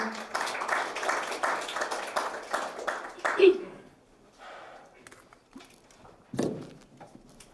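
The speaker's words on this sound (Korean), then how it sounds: "큰 박수 부탁드립니다." An audience at a makgeolli industry and culture seminar applauds with dense, steady clapping for about three seconds, which fades out before a voice begins speaking into a microphone.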